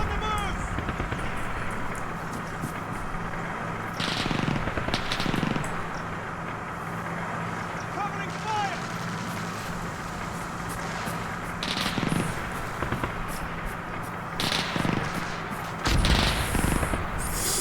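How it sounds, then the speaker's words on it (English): Distant German machine gun fire in an ARMA 3 Normandy battle, with repeated bursts and booming shots scattered across a continuous rumbling battlefield. "German machine gun distant."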